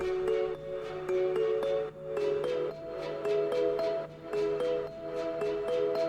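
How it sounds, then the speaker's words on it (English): Layered synthesized strings sustain chords in a full electronic music mix, with bell-like plucks ticking steadily on top and a soft pad underneath. "And some strings."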